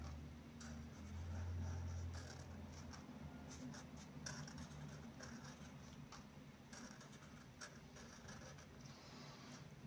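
Pen scratching on paper while tracing around hand lettering, a run of close, irregular scraping strokes over low background hum, with no talk.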